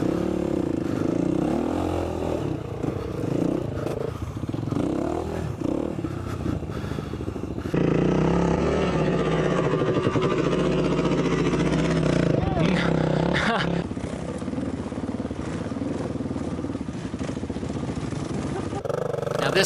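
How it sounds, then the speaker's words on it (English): Enduro dirt bike in the badlands revving hard and pulling a wheelie, a loud continuous engine roar with rising and falling throttle, close by, mixed with wind and a voice talking over it. "Give it a little wheelie."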